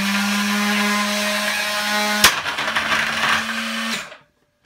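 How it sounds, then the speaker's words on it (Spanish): A very old ice crusher chops ice, with a loud steady motor hum and grinding that jolts with a sharp knock midway, then rattles unevenly before cutting off abruptly. "Es que es una picahielo súper antigua"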